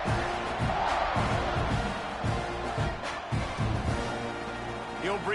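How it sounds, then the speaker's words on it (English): Football stadium crowd buzzing after a touchdown, a steady dense roar of many voices with scattered shouts, filling the whole space at moderate level. "this crowd is buzzing after that last score"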